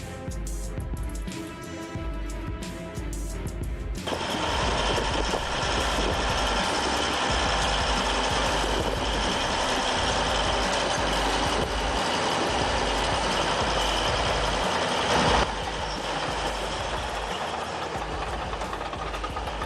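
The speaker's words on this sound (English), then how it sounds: "This beast of a machine is a massive AGEC crawler dozer, rumbling out of the workshop with raw industrial muscle." A massive AGEC crawler bulldozer rumbles steadily and loudly nearby, its heavy diesel engine droning without pause for the whole stretch, with a brief louder swell near the end.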